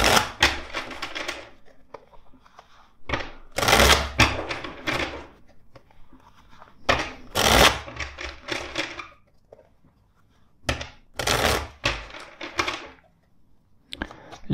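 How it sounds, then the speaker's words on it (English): Tarot card deck shuffled in four separate bursts of crisp riffling and slapping, close and fairly loud, with quiet gaps between each round and no talking. "let's shuffle the deck four times"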